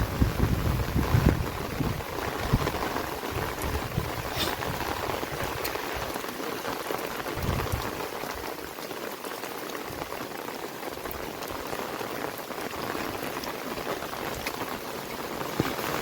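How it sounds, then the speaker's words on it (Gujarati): Steady heavy rainfall drums and patters on nearby surfaces, a thick continuous wash of sound with a few sharper knocks early on. "ચાલુ વરસાદ છે એટલા માટે. કેવો વરસાદ છે"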